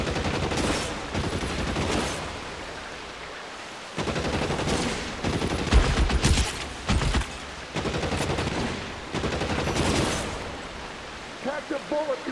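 Gunfire from a shootout in the video game L.A. Noire: dense bursts of automatic and rapid shots come in several loud volleys with brief gaps between them, and a voice can be heard among them.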